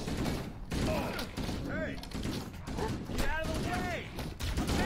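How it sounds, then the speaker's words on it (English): Assault rifle fire in Halo: Combat Evolved comes in repeated bursts under constant game noise, with music and voices mixed in throughout. "I'm pretty sure that the assault rifle is the best it's ever been in this game"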